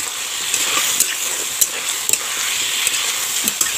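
Broiler chicken frying in hot oil while being stirred in a pan, a loud continuous sizzle with scattered sharp crackles and scraping ticks from the stirring, close up and with no voices.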